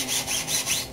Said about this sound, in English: brushing them. Try to remove the most rust that you possibly can.